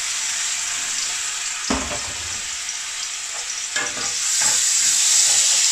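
Homemade garlic ginger paste, a bit under a tablespoon, hits hot oil in a pan for chicken balti, giving a loud, steady sizzle with a couple of sharp stirring clatters that swells brighter toward the end.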